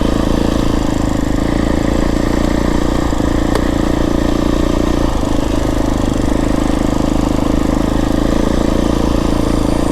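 Beta 350rr X-pro dirt bike engine chugging steadily at low RPM on a trail ride in the Santa Rita mountains, a loud, continuous close-up rumble with a faint rattle and no talking.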